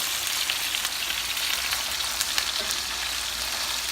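Plantains fry in a pan over raised heat, giving a loud, dense, continuous sizzle and crackle with small pops throughout and no voices.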